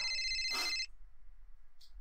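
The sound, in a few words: phone ringtone in the video game Grass Cutter Mutated Lawns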